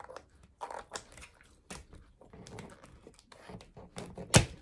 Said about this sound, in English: just cut right in the middle